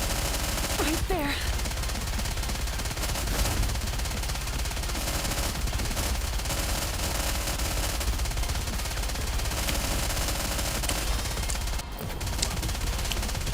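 Continuous video game gunfire, a dense, steady wash of shots and rattling bursts running throughout at a constant loud level, with occasional sharper cracks.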